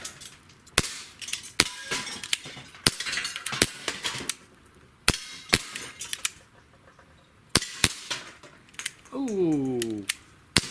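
A Schofield revolver pellet gun fires a string of sharp, snappy shots at targets, roughly a dozen cracks spaced irregularly, with ringing impacts and a brief voice near the end.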